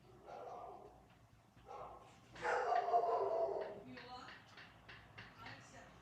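A dog barks indoors, a few muffled, moderately loud barks and yips in short bursts inside a house, mixed with quiet room noise.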